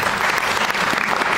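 An audience at an academic lettering ceremony claps in dense, sustained applause, loud and close, with no voices standing out.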